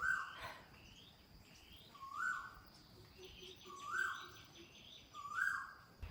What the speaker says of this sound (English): Do you hear the obnoxious bird